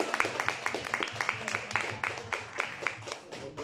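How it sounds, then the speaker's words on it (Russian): An audience at a literary salon in Saint Petersburg claps in a moderate, uneven patter of hand claps, fairly close, with some voices murmuring underneath. "Спасибо большое, аплодисменты нам всем."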